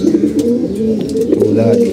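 Pigeons coo steadily close by in a loft of nesting birds, soft low rolling calls repeating throughout, with a voice talking over them.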